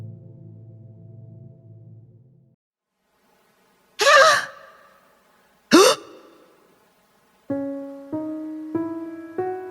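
A woman gasps in a dramatic story scene: two sharp, breathy intakes of breath, loud and close. Low droning tones play before them and a stepped musical sting plays after.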